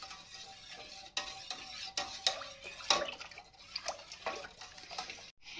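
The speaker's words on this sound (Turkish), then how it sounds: "mayası ekliyoruz ve bunu karıştırıyoruz. Şöyle iyice karıştıralım." A spoon stirs yeast culture into milk for homemade village yogurt, making soft clinks and scraping against the pot in an irregular rhythm. The sound is close but fairly quiet, with occasional sharper taps.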